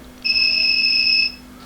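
A UTL MPPT solar inverter running on a low 40Ah battery gives a single steady electronic warning beep about a second long. It is loud and close, sounds alone over a faint mains hum, and no one speaks.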